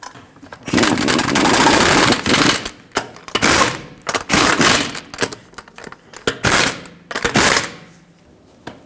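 A wrench works the lug nuts on a 2013-2020 Nissan Pathfinder wheel, tightening them in a cross pattern. It comes through as bursts of close, loud ratcheting clicks separated by short pauses.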